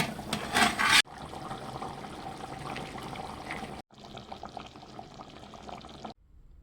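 A short burst of water pouring and splashing into chicken curry, followed by a quieter bubbling, trickling wash that continues in two stretches before cutting off.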